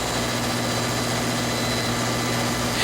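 A large EMD diesel engine runs at a steady, loud, continuous drone with a constant low hum and broadband roar, heard up close with no voices.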